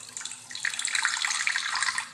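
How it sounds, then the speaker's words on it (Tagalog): Water pouring steadily into a cooking pot for a couple of seconds, close and clear, a bubbling splashing stream with no talk. "Ilalagay ko nga pala ito ng konting tubig."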